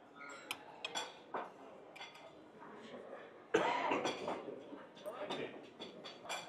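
A knife and fork cut into crisp roast potatoes on a plate at a luxury buffet, with quiet scraping and clinks of cutlery on china amid restaurant murmur and a cough.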